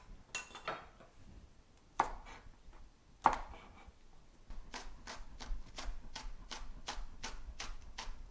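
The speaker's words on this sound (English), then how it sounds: "the whites of our green onions and a clove of garlic is going to get minced up" Green onion whites and garlic minced with a knife on a board, a few scattered chops followed by a steady run of quick, crisp, evenly spaced knife taps, close and fairly quiet.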